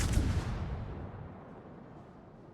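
A battleship's big guns fire a single heavy salvo in World of Warships, a loud booming blast at the start that rolls and fades away over a couple of seconds.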